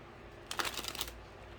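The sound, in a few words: shuffling tarot cards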